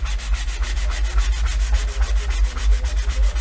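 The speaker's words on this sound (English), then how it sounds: "I'm just gonna take my sanding block. And I'm gonna start sanding off the top layer of paint." Rhythmic hand sanding with a sanding block, stripping the top layer of paint off a wooden sign, quick back-and-forth scratchy strokes repeating steadily and close up.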